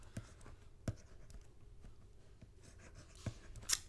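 Pen scratching across paper during a classroom lecture on Dreamweaver, a steady run of soft strokes with sharper taps at the start of words, close and alone without talk.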